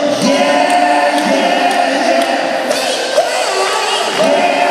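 Large arena crowd at a concert in Manchester shouting back in unison, a dense, loud continuous roar of many voices with repeated rising shouts and cheers throughout.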